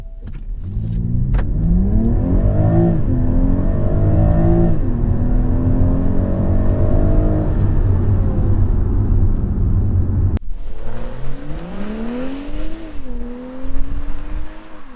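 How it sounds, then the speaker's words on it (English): A BMW M340i G20 engine revs up and down repeatedly with the windows down, its pitch climbing and falling, then after a brief break it roars up again, loud and close. "So let's rev the car to see how it sounds with the windows dropped down."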